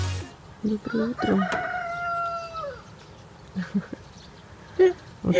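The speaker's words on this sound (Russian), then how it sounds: "Вот так у нас с утра поют петухи." A rooster crows loudly nearby in the morning at a rural dacha, with a long drawn-out call, followed by scattered clucks and shorter crowing from other roosters in the background.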